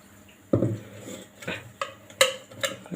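A few separate scrapes and knocks of a utensil against a pan as cashew nut powder is stirred into syrup, close and fairly quiet, with no one talking.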